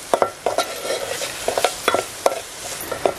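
Dal, onion, garlic, turmeric, masala and garam masala are stirred and fried in hot oil for a Konkan wild-vegetable recipe, giving a steady sizzle broken by repeated scraping stirs. The stirs come close and clear, with no talking.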